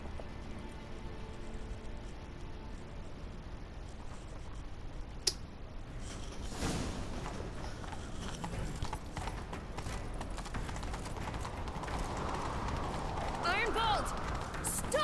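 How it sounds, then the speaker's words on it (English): Horse hooves clip-clopping in The Witcher 3 as riders set off in pursuit, a steady rhythmic gait under game ambience and some voices, with a sharp click near the middle. "Grab a horse, we'll chase him down."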